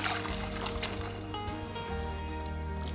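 Cooked red beans and their cooking water are poured into a pot of kurma, a steady liquid trickle and splash over a constant low kitchen hum.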